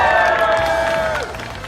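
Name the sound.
crowd cheering at Fall Guys gaming booth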